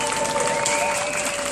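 At a 15 August 2014 fireworks show in Watisart, an outdoor crowd claps in a brief, dense burst of applause, steady and fairly loud.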